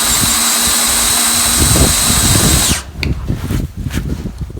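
Power drill boring a hole through a timber frame with a long bit, a loud steady motor whine that winds down partway, followed by sputtering, uneven rumbling and knocking as the bit is pulled out.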